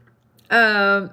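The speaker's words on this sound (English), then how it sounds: "I want to get another good yawn in before I start." A person gives a single loud, close, drawn-out voiced yawn lasting about half a second, alone against a quiet room.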